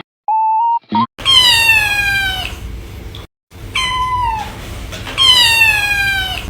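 A cat meows loudly and close by, several drawn-out calls in a row with short pauses between them, after a brief electronic beep at the start.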